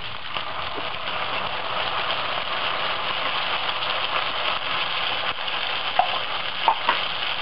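Tomato sauce sizzles in a pan with cooked bacon and chorizo de Bilbao, a dense, even, rain-like hiss held steady throughout, with a couple of brief clicks near the end.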